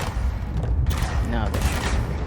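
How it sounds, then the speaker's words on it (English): Enemy gunfire in the video game Control, a dense fusillade of shots and booms running continuously throughout at close range, with a voice talking over it. "Now they're shooting."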